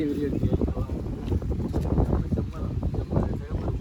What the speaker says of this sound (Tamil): நல்லா காற்று.